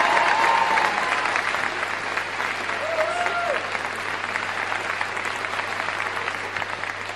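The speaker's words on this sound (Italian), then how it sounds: "Piccolo, vai, applausi forte forte." Sustained, dense applause from a crowd fills the whole stretch, steady and fairly loud, with a faint voice briefly audible early on.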